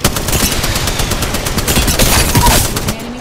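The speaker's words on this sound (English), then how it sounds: "Under fire!" Loud, close gunfire in the Apex Legends video game, rapid overlapping bursts filling the whole moment with a steady rattling barrage.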